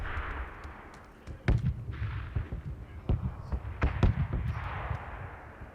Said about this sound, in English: No, that's bombs, I think.